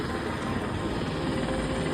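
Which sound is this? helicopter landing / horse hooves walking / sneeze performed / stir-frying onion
helicopter landing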